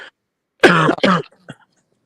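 One person gives a short throat clear and a cough close to the microphone, two quick harsh bursts followed by a faint small cough after a pause, with no talk over them.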